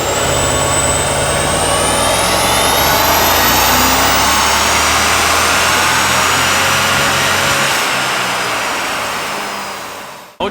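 A BMW E39 M5 engine on a dyno revs hard and steadily for about ten seconds, a loud sustained mechanical roar with whining overtones, before cutting off abruptly at the end.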